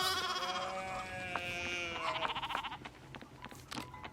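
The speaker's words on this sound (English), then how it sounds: "Sheep are just blocking me off." Sheep bleat in the video game Pentiment, a few wavering nasal calls with other soft game ambience behind them at a moderate level, and no talk over them.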